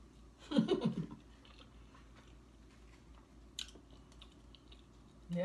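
Little Caesars pizza being chewed close up, with one loud crunchy bite and chewing burst early on, then quiet, soft mouth sounds and a brief click before another bite at the end.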